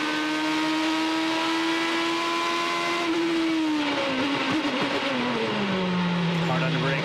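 A 2008 IndyCar at the Australia race brakes hard and drops to second gear, its high engine whine held steady then falling in pitch in stepped downshifts, under excited commentary.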